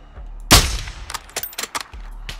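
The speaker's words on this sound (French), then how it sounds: "il a entendu le coup de feu" One sharp, loud gunshot in Call of Duty: Modern Warfare II bursts out, followed by a scatter of smaller clicks and impacts, with a low hum running underneath.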